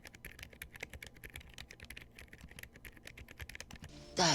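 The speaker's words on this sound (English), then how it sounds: "As you can hear by that, this is a silent switch." Fast, continuous typing on a keyboard fitted with Gamakay Phoenix silent switches gives soft, muted key clicks in a dense, quiet rhythm, ending in a brief louder rustle.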